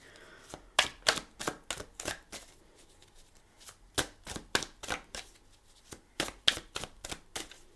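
Tarot cards shuffled and laid out in a series of sharp, papery riffles and snaps, arriving in bursts with short pauses, close and fairly loud, no talking.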